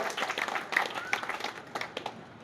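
A crowd at a village panchayat gathering applauds a student who topped the Plus Two exams, with a short burst of moderately loud, dense clapping that wavers and thins, along with some mixed voices.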